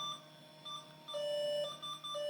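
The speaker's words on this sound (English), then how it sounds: "I'm sorry for the error beeping here" An old Pentium III Slot 1 PC beeps an error during boot. Short, fairly faint electronic tones repeat in an uneven pattern, with one longer sustained beep in the middle.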